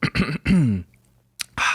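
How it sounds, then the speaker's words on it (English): A person clears their throat with a short, harsh burst, pauses, then clears it again after a brief silence. "I had to clear my throat"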